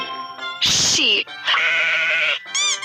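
Two or three loud sheep bleats close together, each wavering call standing alone with no talk or background noise.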